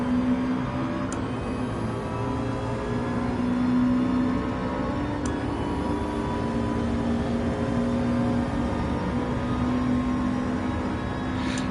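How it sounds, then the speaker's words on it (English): Subaru race car engine in the Assetto Corsa Competizione racing game, a sustained high-pitched whine and drone held at steady revs throughout, with no talk. "the engine is just about to pop out of the bonnet."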